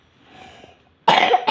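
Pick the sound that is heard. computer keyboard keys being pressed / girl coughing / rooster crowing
girl coughing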